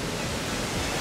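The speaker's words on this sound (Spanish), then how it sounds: "Una segunda cascada que hay aquí." A second waterfall on a mountain trail, a steady broadband rush of falling water, close and continuous with no voices over it.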